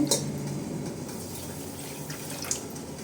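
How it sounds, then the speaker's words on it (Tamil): Water pouring steadily into a pan, a continuous liquid splashing sound with no talking. "2 டம்ளர் தண்ணி விட்றேன்."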